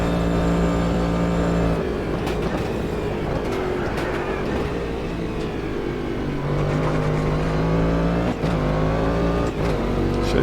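Cadillac DPi prototype race car in the Automobilista 2 racing game, its engine droning loud and steady with rising and falling revs and gear shifts, held at high speed around Daytona.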